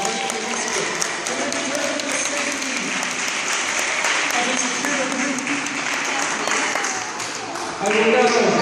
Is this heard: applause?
yes